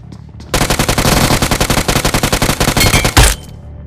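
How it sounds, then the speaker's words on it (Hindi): Automatic gunfire in the BGMI battle royale game, a rapid, loud string of about thirty evenly spaced shots ending in a heavier burst, with no talking over it. "ये दो शॉट जब हेड में पड़ते हैं टक टक"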